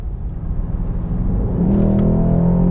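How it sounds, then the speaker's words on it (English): A Mercedes S63 AMG in Sport Plus mode on an open road gives a deep, close engine rumble with a rising drone as it pulls harder, growing louder toward the end. "Driving once more in Sport Plus with open road with no speed limit."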